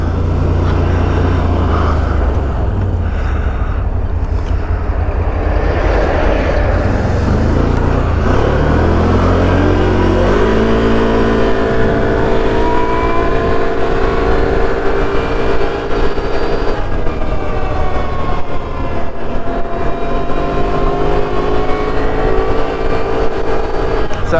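A Can-Am Outlander 1000 XXC quad ridden at high speed on a road, its engine droning loud and close with rising and shifting tones as it accelerates, plus steady wind rush.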